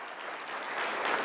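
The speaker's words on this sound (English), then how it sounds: "I think we should start off with a nice round of applause" A lecture audience applauds after a science talk, steady dense clapping that swells slightly louder toward the end, heard alone without speech.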